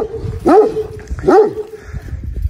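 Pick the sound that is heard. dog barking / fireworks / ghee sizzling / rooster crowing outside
dog barking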